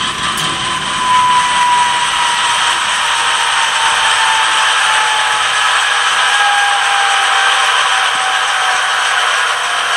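Manual air compressor effect from an ESU LokSound V5 decoder in a ScaleTrains HO scale Norfolk Southern C44-9W locomotive, a steady hissing, whirring mechanical drone that holds at an even level for the full stretch with no talk.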